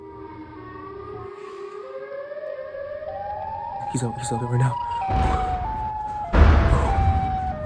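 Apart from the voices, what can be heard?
monster siren wail in video game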